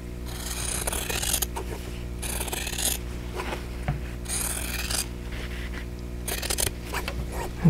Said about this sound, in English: So now we're going to cut on that drawn line again.